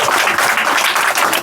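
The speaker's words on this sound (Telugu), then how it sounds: "చప్పట్లు కొట్టండి అందరూ" A short burst of children clapping and applauding in a classroom, dense and steady for about a second and a half.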